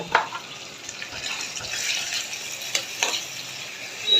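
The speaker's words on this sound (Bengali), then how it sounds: "আমি পেঁয়াজ কুচির সাথে শুটকিটাও ভেজে নিব।" Oil crackles and sizzles steadily as chopped onion and chepa dried fish fry in a pan, with a few sharp spits and stirring scrapes, no voices.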